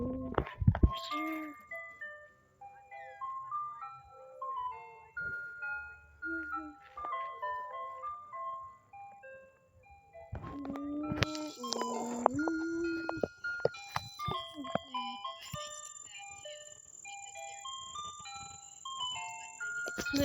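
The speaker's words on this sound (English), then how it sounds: "There's the ice cream truck right there." An ice cream truck plays its jingle, a steady electronic melody running the whole time, with a louder passage midway and brief speech in the background.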